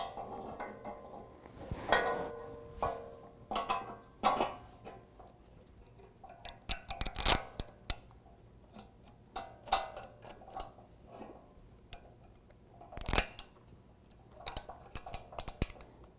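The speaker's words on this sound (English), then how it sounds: "we're just going to use some of these plastic push nuts to hold that in" Plastic push nuts snapped into place to secure a bumper brace on a 2017 Ford F-250 Super Duty, heard as scattered sharp clicks and taps spaced irregularly amid quiet handling noise.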